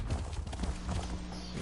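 A horse mount in the video game Elder Scrolls Online trots with faint, steady clip-clopping hooves, a quiet rhythmic beat over a low background rumble.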